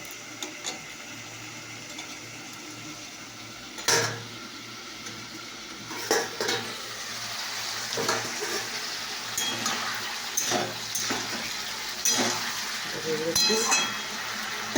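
Potatoes and garlic fry in a pan with a steady sizzle, broken by sharp clinks and scrapes as a utensil stirs them, each stir a brief louder burst over the hiss.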